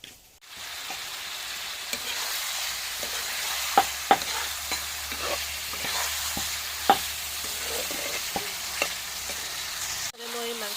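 Pork with lai greens fries over a wood fire with a constant low sizzle, broken by irregular sharp clicks and taps of stirring against the pan and a brief break near the end.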